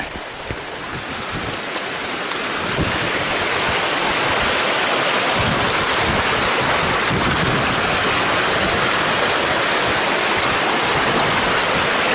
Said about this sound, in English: So here's that waterfall I was talking about yesterday.